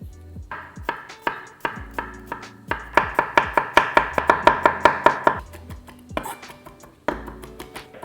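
A knife rapidly minces freshly peeled garlic on a cutting board, a close, crisp run of rhythmic chops that speeds into a steady burst, then slows to scattered taps.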